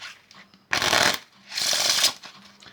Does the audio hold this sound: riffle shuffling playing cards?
yes